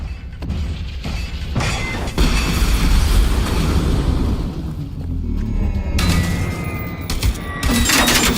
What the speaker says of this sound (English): I just realized this is burst fire. Why does an AK have burst fire?